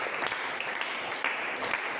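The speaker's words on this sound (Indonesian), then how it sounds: "Oke, boleh tepuk tangan." A classroom of students at an arts and culture session claps together, a dense, even burst of applause lasting a couple of seconds, close and fairly bright, with no talking over it.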